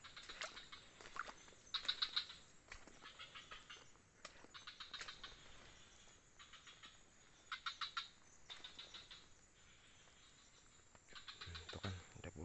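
Bird wings flapping nearby in the Alas Purwo forest, with several short bursts of fluttering and rustling that come and go in clusters, faint against a quiet outdoor background with insects.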